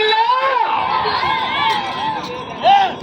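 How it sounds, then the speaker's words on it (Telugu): A crowd at an old-category bullock-cart pulling contest during the Vontimitta Katta Gangamma fair shouts and whistles. Loud, close, wavering whistles ride over a noisy mix of voices, with a louder whistle swell near the end. "కేకలు విజిల్లో"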